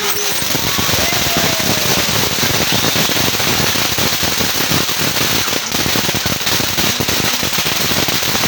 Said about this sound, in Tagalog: Paputok na.